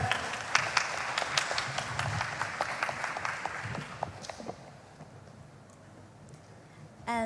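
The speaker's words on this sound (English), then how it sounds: "Please give applause to them." Audience applause at the opening of an academic prehistory event, a dense patter of clapping that fades out after several seconds into quieter room noise, with a faint voice at the end.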